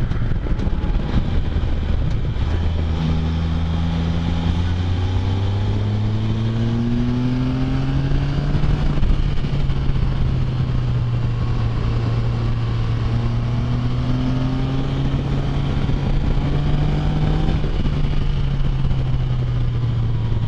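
Can-Am Spyder three-wheeler engine under way while riding, a loud continuous drone that climbs and falls in pitch as the rider accelerates and shifts, with steady wind rush throughout and no talking.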